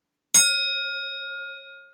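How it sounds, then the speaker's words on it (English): A single bell struck once, giving a bright, clear ding that rings on with a long, slowly fading metallic tone, loud and alone. "I love that bell."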